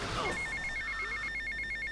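A telephone rings in Grand Theft Auto Vice City, a rapid trilling electronic bell repeating steadily after a brief whoosh of game noise at the start.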